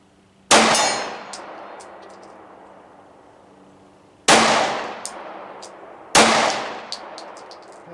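Three sharp metallic clangs ring out from a steel target struck by pistol rounds at 55 yards, each impact decaying slowly with a bright ringing tail, spaced a few seconds apart, no talk over them.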